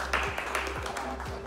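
A small group in a lecture setting gives brief, light applause, with scattered claps over a short moment.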